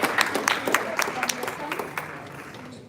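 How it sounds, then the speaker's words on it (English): An audience at a live Indivisible Naperville solidarity rally claps to welcome a speaker to the podium, a burst of scattered handclaps that tapers off over a few seconds. "Let's give Mimi a round of applause and welcome her to the podium."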